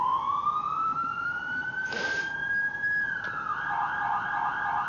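A slow wail siren climbs and holds on an emergency vehicle in the EmergNYC simulator, briefly interrupted by a short burst of noise before the tone falls and shifts, steady and prominent throughout.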